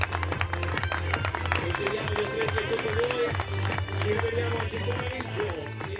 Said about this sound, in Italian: con il vostro applauso, questo applauso finale qui sulle montagne della Val Camoica